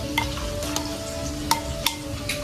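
Food frying in a pan while breakfast is cooked at home, a steady sizzle with a few sharp crackles and stirring clatters, moderately quiet with no talk.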